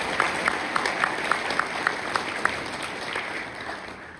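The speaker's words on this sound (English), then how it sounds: "Please join me in another round of applause if you would." Scattered applause from a church congregation at an outdoor Easter Sunday service at a sundial, a thin spread of claps with a few sharper ones standing out, fairly quiet and steady for a few seconds.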